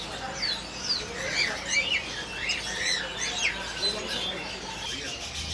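Parrots and other caged birds call at Pramuka bird market in Jakarta, a dense layer of shrill chirps and squawks overlapping steadily throughout against busy market ambience.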